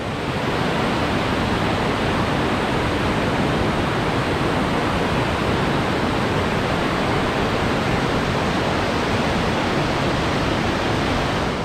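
Creek falls in the Victorian High Country pour in a heavy, steady roar of rushing water, loud and close, unbroken for the whole stretch with no voices.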